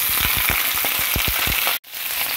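Fresh spinach frying in hot oil in a skillet, a loud steady sizzle with sharp crackling pops scattered through it and a brief dropout before the hiss resumes.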